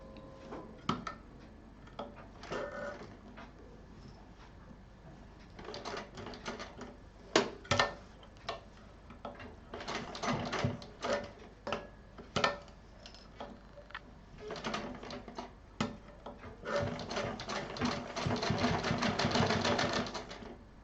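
A sewing machine stitches piping onto a zip pouch in short close bursts of rapid mechanical ticking separated by pauses, with a longer steady run of stitching at the end; no talking.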